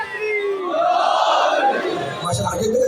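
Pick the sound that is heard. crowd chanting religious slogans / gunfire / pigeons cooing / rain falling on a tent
crowd chanting religious slogans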